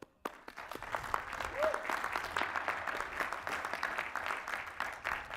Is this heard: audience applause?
yes